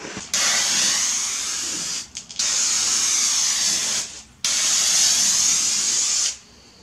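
Rustoleum Turbo spray paint hisses loudly onto a Subaru's body in three long close bursts separated by brief pauses, with no talk.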